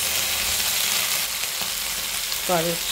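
Carrots frying in a pan, a steady, close hiss and sizzle throughout, with a brief clink of a utensil and a faint tonal squeak near the end.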